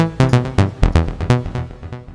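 A synth melody recorded in Logic Pro, a short run of punchy, bright notes in quick succession with firm attacks and brief decays, played alone and fairly loud.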